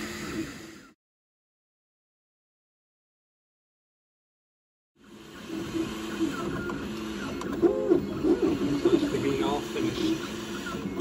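A Makerbot Replicator+ 3D printer runs with soft whirring and stepper-motor whines at close range, starting after a few seconds of silence, with a voice speaking over the machine.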